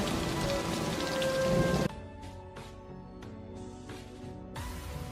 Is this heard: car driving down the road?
no